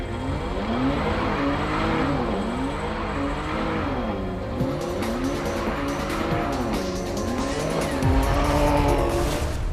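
A Jaguar XE with a new 4-liter V6 engine is driven hard on a race track in northern Spain, the engine loudly rising and falling through gear changes, with tire squeal and skidding as it corners.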